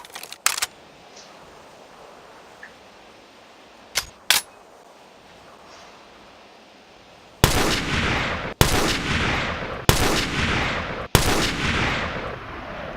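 An M21 rifle fires in a video game: after quieter mechanical clicks and handling sounds, four loud, sharp shots ring out at a slow, regular pace, each with a lingering echoing tail.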